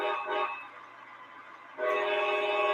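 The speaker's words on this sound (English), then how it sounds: "I love the horn on this thing. It does the forward sound," An ALCO model locomotive gives its reverse signal horn, a sustained chord-like honk, then a short dip and a second loud blast, heard alone without talk.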